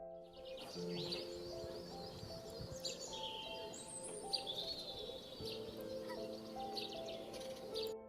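Birds chirp and call continuously in an outdoor natural setting by the sea, varied tweets layered over a steady background hum, fairly close and moderately loud throughout.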